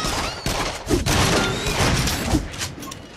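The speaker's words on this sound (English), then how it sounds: "Shoot the gun in front of you." Gunfire from the VR shooter game Until Dawn: Rush of Blood: a dense run of loud, close shots and thuds over about three seconds, with no talk.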